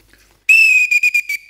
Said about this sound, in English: I could never answer to a whistle.